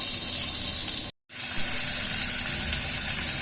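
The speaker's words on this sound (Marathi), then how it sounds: "पनीर आहे थोडे काजू आहे चार पाच ते तळून घेते" Paneer cubes and a few cashews fry in leftover bhaji oil, giving a steady, close hiss that runs continuously, broken once by a brief moment of silence before the sizzle resumes.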